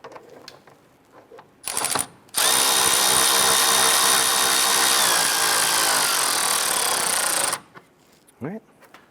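A power tool drives in the coolant reservoir bolt on a 2005-2010 Chrysler 300, a loud steady whir with a short burst first and then about five seconds of continuous running, up close and alone.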